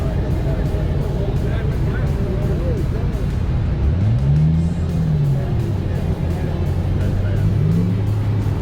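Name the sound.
1928 Packard car driving past on the road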